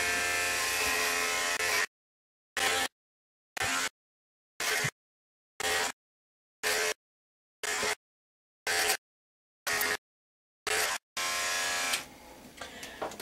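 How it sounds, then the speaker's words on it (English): Electric hair clippers buzz steadily while trimming hair on a head, close and loud, then cut off and on in repeated short bursts, about ten even pulses, before a final longer run; no talking. "I kind of lift the clippers like this"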